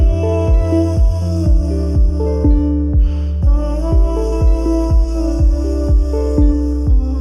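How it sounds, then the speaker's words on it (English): Hip-hop beat with booming bass kicks on a steady repeating pulse under layered tonal synth chords, loud and clean with no vocals. "the beats that he now makes sound like this"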